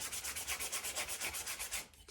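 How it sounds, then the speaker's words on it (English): Sandpaper rubs back and forth over a hand-carved wooden eating spoon in quick, even strokes, about four per second, close and alone, stopping near the end. "So while I'm sanding back and forth in here, the paper is bending"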